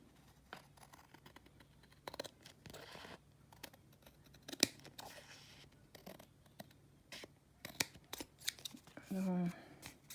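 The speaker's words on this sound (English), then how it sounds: "Cut off that little piece that's showing white." Scissors trim small pieces of paper for a handmade book tag, with quiet, close, irregular snips and light rustling of paper between cuts.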